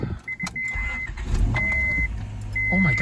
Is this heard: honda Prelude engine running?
yes